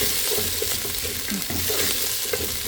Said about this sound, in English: Now I'm going to stir that for just a minute or so.